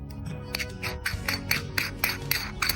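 The case of a replica gold chronograph watch is opened by hand, giving a close, quiet series of small rasping clicks and scrapes in an uneven rhythm, with no talking.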